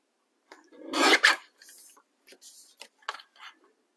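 Stampin' Up! Flowering Fields designer paper being cut diagonally for an Easter basket: a few short, close, raspy cutting strokes, one louder burst followed by softer separate snips, with no talking.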